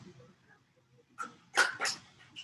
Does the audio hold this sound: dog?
yes